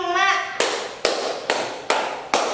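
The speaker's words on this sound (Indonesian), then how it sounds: "Tepuk 1, tepuk 2, tepuk 3, tepuk 4" Five sharp hand claps come at a steady counted pace in a classroom lesson, each crisp and fairly close, after a woman's brief spoken lead-in.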